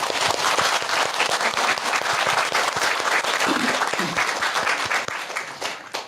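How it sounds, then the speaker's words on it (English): An audience bursts into sustained applause, dense loud clapping from many hands throughout, with a faint voice briefly under it before tapering slightly at the end. "Oh, another round of applause."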